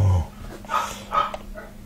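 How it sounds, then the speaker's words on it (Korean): A dog sounds off indoors in a few short, snorting barks and huffs, close to the microphone, in a room otherwise quiet apart from a low hum. "저기 지금 강아지가 짖고 있네요"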